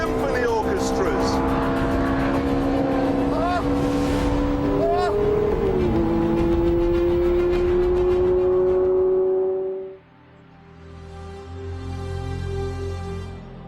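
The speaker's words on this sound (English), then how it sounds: "listen to this noise. Those exhausts are only waste disposal units" A Ferrari 430 V8 engine roars loudly at high revs, pitch climbing and shifting through gears, then the note drops sharply and settles into a lower, rumbling idle.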